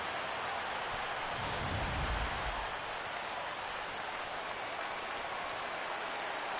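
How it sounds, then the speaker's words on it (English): Stadium crowd cheering in the baseball video game MLB The Show 17, a steady broad roar with a brief swell, loud and continuous throughout with no talk over it. "Crowd on its feet."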